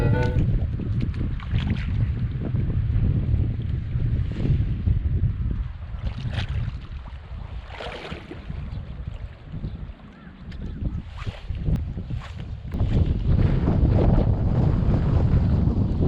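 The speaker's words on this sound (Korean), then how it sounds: "바람이 강하게 오니까" Strong gusting wind buffets the microphone aboard a bass fishing boat on cold water near Chuncheon, a loud continuous roar with surges and lulls and faint water splashing beneath, with no talking.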